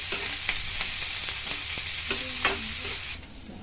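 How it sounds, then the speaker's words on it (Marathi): Onion and chili frying in a pan over mustard seeds and cumin for a bitter gourd dish, a loud steady sizzle with regular spoon scrapes and taps, close up, fading at the end, no voices. "त्यात कांदा मिरची टाकायची, भाजून घ्यायचं"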